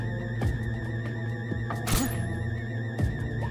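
A searchlight shot in daytime in Metal Gear Solid 3: Snake Eater breaks with a bright crash among a few dull thunks, all over steady droning game music.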